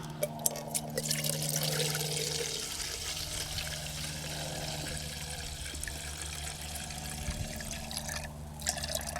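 Petrol poured from a jerrycan into the bubbler of a Pantone engine fitted to a lawnmower, a continuous gurgling liquid stream, close and steady, with no talk.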